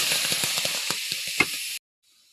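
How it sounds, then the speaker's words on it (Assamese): Bitter flowers fry in a pan with a steady loud sizzle and a few soft stirring knocks, cutting off abruptly near the end into near silence. "তিতাখিনি ইয়াত ভাজিছোঁ।"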